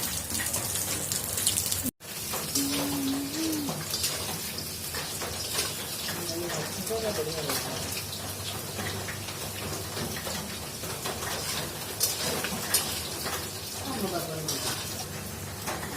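Dense, steady heavy rain hisses across the whole clip, with a brief cut early on and occasional faint voices underneath.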